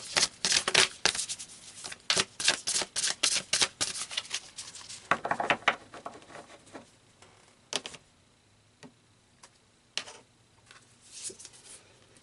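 Tarot cards are shuffled and drawn, giving dense rapid riffling flutters and snaps at first, then thinning into scattered single card flicks and slaps, close and fairly quiet, with no voice.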